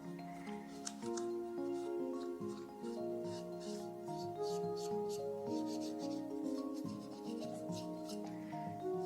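A cloth wipes down a handgun during cleaning, making soft, continuous rubbing and swishing close by. Steady background music with sustained tones plays under it.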